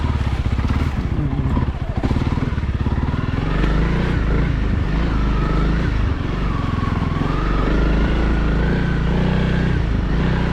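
A Honda CRF300L motorcycle engine runs in arctic cold at about -10°C: a steady, loud, close single-cylinder putter throughout, with a brief rise in revs partway, while a voice speaks over it.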